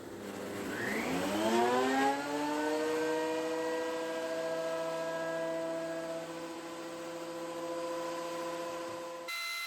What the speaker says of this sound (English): on with some dust extraction. This is a twin motor unit, and this does take away most of the dust